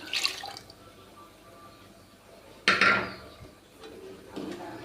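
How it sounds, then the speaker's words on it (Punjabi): Water is poured into moong dal in a tempering pan on the stove, a brief close splash and gush midway, with faint kitchen clatter before and after. "ਥੋੜਾ ਜਿਹਾ ਆਪਾਂ ਪਾਣੀ ਐਡ ਕਰ"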